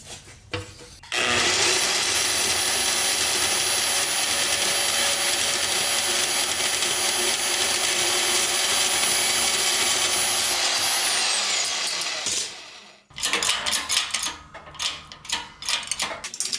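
A power tool cuts through steel flat bar for an exhaust mount on a turbo K24 Nissan Cefiro build, a loud, steady grinding whine held for about eleven seconds that winds down, followed by scattered clanks and handling noises.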